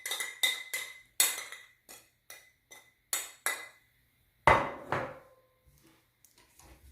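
A utensil scrapes and clinks against a bowl while pumpkin and citrus jam mixture is stirred with zest, in a quick series of bright, close clatters and knocks, then a heavier thump and softer scrapes, with no talk.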